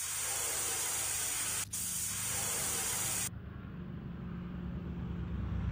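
Bug spray hissing at roaches in a kitchen in the Cafe Owner Simulator video game, a loud steady aerosol blast with a short break, then a quieter low rumble.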